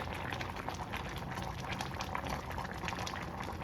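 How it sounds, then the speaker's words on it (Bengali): Beef goulash bubbling hard in a pot over a full flame, close to boiling over, makes a dense, continuous burbling roil up close with no voices. "উপচে ওঠার একটা অবস্থানে আছে, যেহেতু এখন ফুল ফ্লেম করা আছে"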